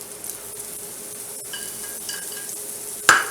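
Onions sizzling in butter in a pan: a faint, steady crackling hiss, followed near the end by a sharp clatter of a utensil or pan.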